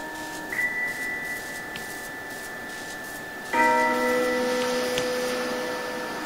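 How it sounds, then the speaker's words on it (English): A bell in a video game rings with a long, sustained metallic tone, then a second stronger strike layers fresh overtones that hang and slowly fade. "It's a long, reverberating sound, good for morning alarms and dinner bells."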